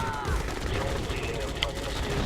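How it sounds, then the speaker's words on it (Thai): Grand Cannon artillery firing in the real-time strategy game Red Alert 2: Yuri's Revenge, heavy booming shots dense through the battle din with a sharp blast near the middle. "แล้วตรงนี้แคนนอนยิงโอ้ยิงไส้แตกหมดนะครับแคนนอน ปืนใหญ่แคนนอนครับ แกรนแคนนอน แรงมากครับ"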